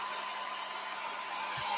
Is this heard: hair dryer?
yes